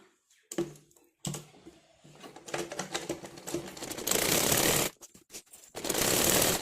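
Sewing machine stitching a blouse neck piece made with a cross piece, heard as bursts of fast rattling mechanical stitching separated by pauses, growing louder and denser toward the end.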